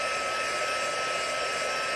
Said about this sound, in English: Heat tool, setting number 2. I'm just gonna let this heat up for a second.